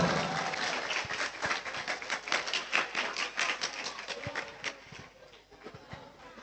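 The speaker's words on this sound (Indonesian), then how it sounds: "Tepuk tangan untuk kita semua." Group clapping from a Pondok Ramadan gathering at a junior high school in Kabat, Banyuwangi, dense and close at first and thinning toward the end, with sharp individual claps standing out.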